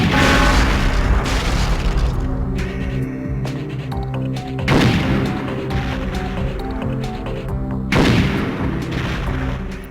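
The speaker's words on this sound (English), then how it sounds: "And now one of my probably least favorite weapons in the game, the Devastator." The Devastator grenade launcher in Perfect Dark fires and its grenades explode in a firing range, loud booming blasts at about 0, 2.5, 4.8 and 8 seconds, each decaying into a long rumbling tail.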